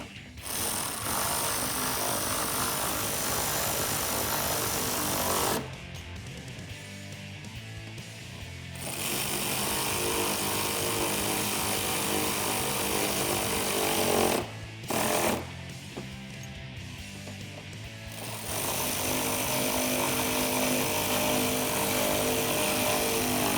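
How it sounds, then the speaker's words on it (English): Power tool driving bolts with an 8 mm socket while fitting fender flares on a Toyota Tacoma: a loud continuous buzzing hammer sound in long runs, broken by a few short pauses. "what we can do is take an 8mm socket and tighten those up."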